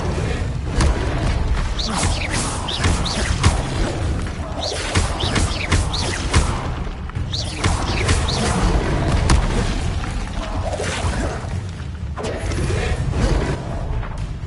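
Spell-casting combat in Hogwarts Legacy, a dense, continuous clatter of mechanical clanks, booms, thuds and creaks that keeps up loudly throughout, with no talking heard.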